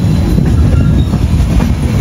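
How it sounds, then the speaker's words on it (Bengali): Kandari Express running from Howrah to Digha, heard from aboard as a loud, continuous low rumble of wheels on rails with faint rhythmic clatter, steady throughout and with no talk. "আমাদের ট্রেনটি কিন্তু খুব সুন্দর একটা কার্ভ নিয়ে নিয়েছে"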